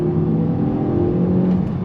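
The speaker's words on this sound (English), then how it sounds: "Spinning up the tires." A 2023 Kia Forte GT with a dual-clutch transmission, set in sport mode, pulls away from a stop with its tires spinning; a steady, loud engine drone with a low rumble holds close and continuous, with no talking.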